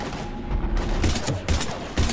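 Weapon fire against husks in Mass Effect 3, a run of heavy, rapid blasts spread across about two seconds with a dense, loud, battle-filled background and no talking.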